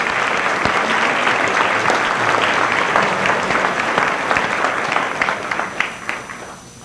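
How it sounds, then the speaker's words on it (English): An audience at an MLK event gives sustained applause after a pianist's introduction, a dense wash of clapping that holds steady for several seconds, then thins into scattered claps and fades. "Please join me in giving Priyanka a round of applause."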